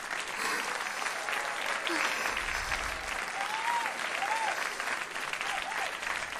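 Audience applause fills a concert hall in a visual novel video game, a steady, dense wash of clapping and cheering that holds throughout under soft game music.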